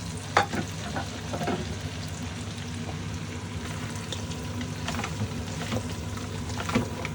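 Vegetables stir-fry in hot sesame oil for a spicy crispy chicken curry, a steady close sizzle and crackle with occasional stirring clatters throughout, no talking.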